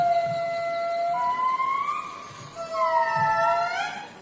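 Lemurs call through a forest at dawn, long wailing siren-like tones that rise and fall, with two voices overlapping into a chorus, carrying clearly over a soft background.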